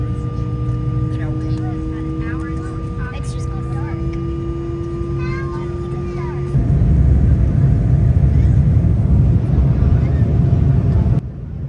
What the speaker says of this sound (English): the plane will start driving on the runway as it is waiting its turn to be able to take off